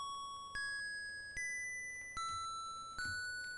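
The spring bell in a video game chimes four times at an even pace, each strike a bright ringing tone that rings on and decays, over a quiet background.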